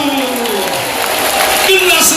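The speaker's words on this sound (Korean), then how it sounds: "하나님의 영광의 박수" A church congregation breaks into loud, sustained applause that fills the space, steady and dense from start to finish, with a voice heard over it.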